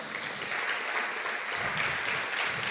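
A church congregation claps during a Spanish-language service, a dense, even wash of applause from many hands that sounds moderately loud and continuous with no pauses.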